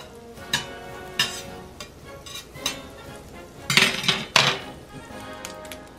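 Butter melts and sizzles in a frying pan for crepes, a soft steady crackle under repeated sharp clinks and scrapes of a utensil against the pan.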